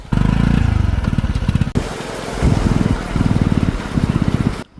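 A loud, close motorcycle engine chugs and revs unevenly, its pulsing throb rising and falling as it pushes through floodwater on a submerged road in Jaffna, then cuts off abruptly.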